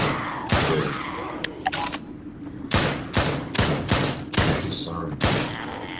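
Gunfire crackles through the Drop Dead: Dual Strike video game, with a series of sharp, loud shots in an irregular rhythm over a steady background rumble.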